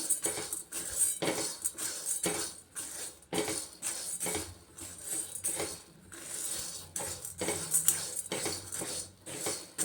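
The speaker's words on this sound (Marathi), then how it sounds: "हरभरा डाळसुद्धा आपल्याला मीडियम गॅसवरच भाजायची आहे।" Chana dal dry-roasts in a pan over medium gas heat, stirred with a metal utensil that scrapes and clinks against the pan in repeated, irregular strokes, close and moderately loud.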